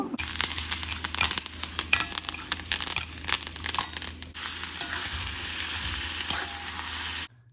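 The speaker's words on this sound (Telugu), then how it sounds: "దీన్ని తిరగమాత వేసుకుందాము" Spices for a chutney tempering hit hot oil: crinkly stirring and scraping at first, then a sudden loud, steady sizzle that holds until it cuts off.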